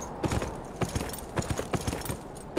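Horse hooves clip-clop steadily in a video game, a quiet, even rhythm of soft thuds with no voices over it.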